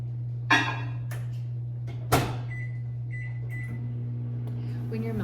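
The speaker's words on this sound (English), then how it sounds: "I'm going to put these in the microwave for probably 30 seconds" A kitchen microwave oven with milk chocolate chips inside gets its door shut with a clunk, then beeps as buttons are pressed and starts a low steady hum, all under a constant background drone.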